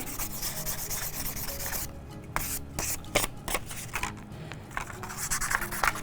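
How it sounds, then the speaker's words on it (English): Sandpaper rubs the edges of crescent dangle earrings in short, scratchy strokes, with irregular gritty rasps and brief pauses between passes, close and fairly quiet. "I can go in with sandpaper too and kind of smooth those edges with some sandpaper"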